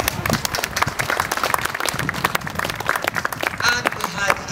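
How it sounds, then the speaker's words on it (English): An audience at a fair day opening speech in a church gives a round of applause for newlyweds, lively, uneven clapping from a mid-sized crowd, close and steady throughout with some voices mixed in. "So give them a little round of applause."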